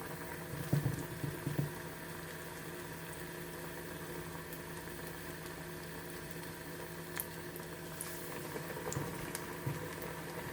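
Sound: potato onion pakoras deep-frying in hot oil

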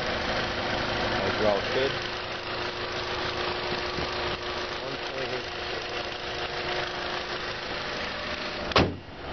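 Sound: 2003 Volkswagen Jetta 1.8T engine idling

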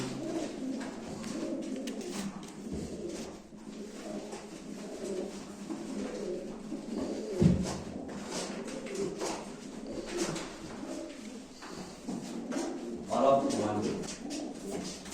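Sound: pigeons cooing at a live pigeon auction

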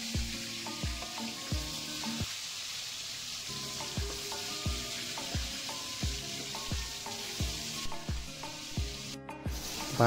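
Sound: frying Indian piranha (chandi) fish in oil

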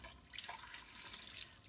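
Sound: tap water rinsing down a lab sink drain

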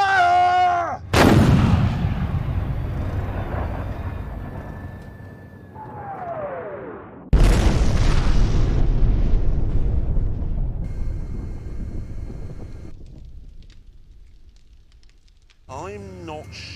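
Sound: cannon firing and explosion destroying a car

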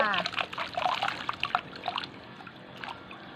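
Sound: scooping water while changing water for young frogs

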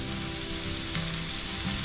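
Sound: pork sizzling on a tabletop grill

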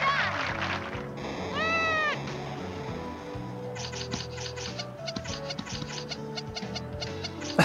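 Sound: cat meowing

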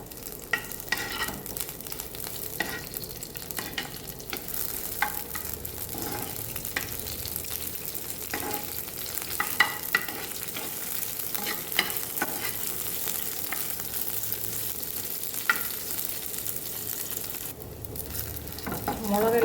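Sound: chilli frying in oil in a pan

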